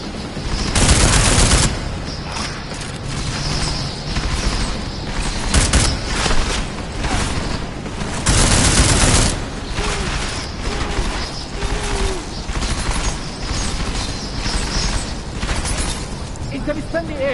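Gunfire in the Deus Ex: Mankind Divided video game comes in repeated loud bursts of automatic fire with metallic mechanical clatter between, over a busy combat bed with voices speaking throughout.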